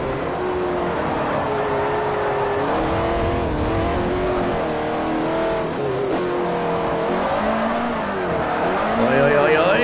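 A Ferrari F430 race car in the racing game Forza 4 roars through an overtaking move, engine revs rising and falling in loud sweeps against other cars, with someone talking over it.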